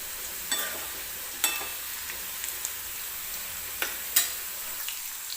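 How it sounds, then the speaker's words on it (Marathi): Potato pieces fry in oil for sabudana khichdi, a soft, faint, continuous sizzle broken by a few sharp clicks and taps of a utensil. "हा बटाटा छान असा तेलामध्ये तळलेला आहे"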